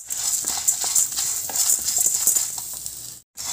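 Spices and shankupushpam leaves dry roast in a pan for leaf rice, with continuous close rattling and scraping as they are stirred, ending in a brief silence and a short resumption.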